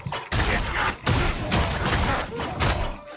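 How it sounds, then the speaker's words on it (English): Cannon fire in the video game Warhammer 40,000: Darktide, a rapid series of heavy booming blasts and thuds close up, several bursts in quick succession over chaotic combat noise. "That's a dope cannon though you got."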